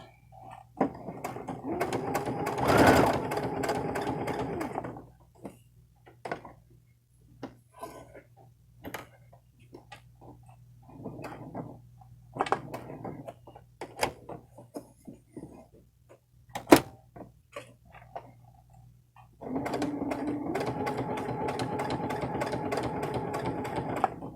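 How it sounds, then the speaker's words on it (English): A sewing machine running a center straight stitch around a buttonhole, close whirring bursts at the start and end separated by short stop-start runs and clicks as the fabric is turned. "And then I'm going to sew all the way around."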